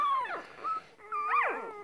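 One-day-old puppies whimper and whine for their mother in two close, high, wavering cries with rising and falling pitch, separated by a brief pause.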